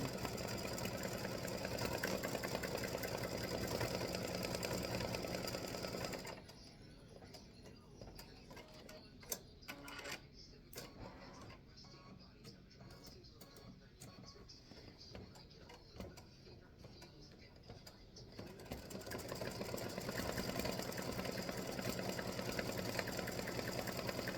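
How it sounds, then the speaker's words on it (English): An embroidery machine stitches a tiny green buckle for freestanding lace, a steady mechanical whir broken midway by a quieter stretch of sharp rhythmic ticks and clicks before the whirring resumes, close and alone. "this is going to stitch a little bitty tiny green buckle"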